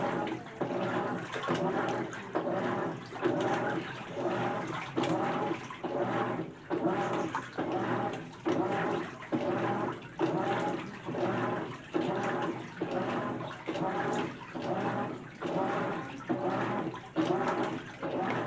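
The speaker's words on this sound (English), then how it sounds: "Like you can see the clothes kind of soaked in the water as the machine is turning them over" GE washing machine on its normal cycle, water sloshing as the drum turns soaked clothes over, in a steady rhythmic series of swishes about every second, close and moderately quiet.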